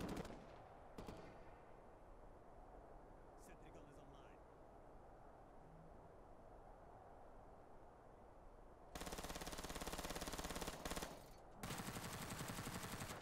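Automated sentry gun firing in Ghost Recon: Future Soldier, loud sustained bursts of rapid gunfire crackling in two long stretches near the end after a quieter, smoky battlefield ambience with scattered distant shots.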